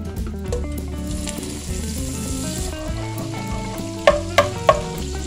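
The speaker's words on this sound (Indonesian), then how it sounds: "Panaskan wajan, kemudian kita masukkan mentega." Butter sizzles steadily in a hot frying pan under background music, with a few sharp clinks near the end.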